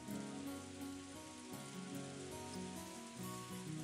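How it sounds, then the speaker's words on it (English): Steady pouring rain in the Umineko video game, a constant hiss spread wide across the clip, with soft background music tones running beneath it the whole time. "Outside, the rain had started to pour down hard."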